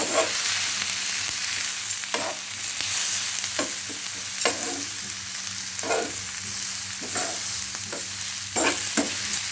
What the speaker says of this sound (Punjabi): ਹੁਣ ਆਪਾਂ ਇਹਨਾਂ ਨੂੰ ਹੋਰ ਜਿਹਾ ਫਿਰ ਤੋਂ ਮਿਕਸ ਕਰ ਲਾਂਗੇ